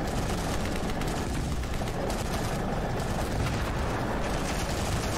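Continuous heavy battle noise from Ravenfield, with a tank firing high-explosive rounds amid a dense, rumbling wall of overlapping gunfire and blasts, loud and unbroken throughout.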